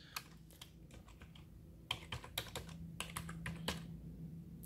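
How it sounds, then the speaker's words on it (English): Keys clatter as a password is typed on a computer keyboard, used with a Lumia 950 phone docked in a Samsung DeX Station: irregular bursts of close, light clicks, sparse at first, then denser taps, with no talk. "I'm gonna go ahead and enter the password now with the keyboard and mouse."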